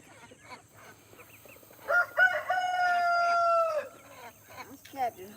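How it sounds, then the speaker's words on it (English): A rooster crows once in a long, clear drawn-out call that rises and holds before fading, with softer clucking and other fowl sounds around it in a quiet outdoor setting. "I hear your chickens crowing and mine crowing."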